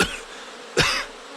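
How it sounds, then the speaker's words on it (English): A person gives a single sharp cough partway through, standing out from quiet room tone during a storytelling reading, with a fainter breathy sound at the very start. "Having a bit of a cough attack."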